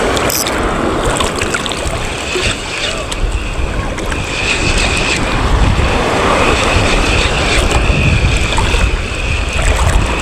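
Sea waves slap around a small fishing boat at sea as wind buffets the microphone, a loud continuous churning wash with occasional splashes throughout.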